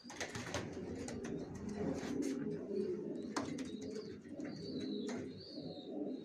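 Racer pigeons cooing steadily and close, a low continuous murmur with a few brief chirps and faint higher calls over it.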